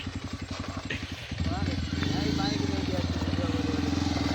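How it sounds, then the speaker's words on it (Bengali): The engine of a Pulsar 120 motorcycle runs close by with a rapid, regular thumping beat that grows louder and fuller partway through, then holds steady. "আমাদের এখন পালসার 120 আসছে এখানে।"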